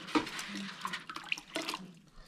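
Tap water runs over freshly cleaned sterling silver being rinsed under a faucet, a close, uneven splashing that shifts as the piece is moved through the stream, with soft clinks and a faint voice in the background.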